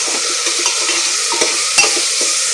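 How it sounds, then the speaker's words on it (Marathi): Soya chunks being stirred into vegetable biryani in a hot pan, with a steady sizzling fry and a few scraping stir strokes close by, no voices. "त्यानंतर माझ्याकडे सोया आहे, तो मी टाकते, सोया चंक्स. छान प्रकारे याला हलवून घ्यायचं."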